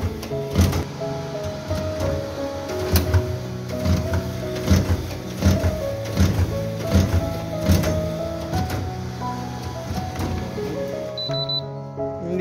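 An offset printing machine printing wedding cards churns away in a loud, steady mechanical rhythm of repeated clunks and whirs that continues without a break.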